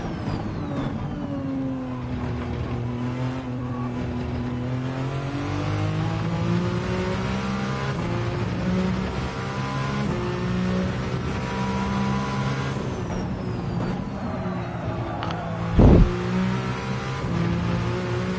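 A race car engine in Gran Turismo 7 drones and revs steadily during WEC-style racing, its pitch climbing and falling through gear changes, loud and continuous, with a brief sharp thump near the end.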